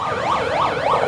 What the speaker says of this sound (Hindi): एम्बुलेंस को रास्ता दीजिए।